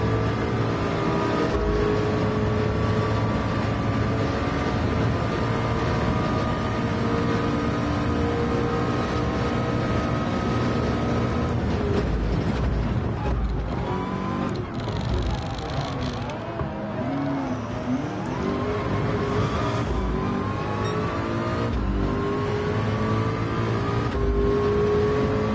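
Race car engines in the PSVR2 Le Mans racing game, a continuous loud roar with shifting harmonic whine as the cars rev and change pitch, with a McLaren among them, sustained for the whole stretch and no talk over it.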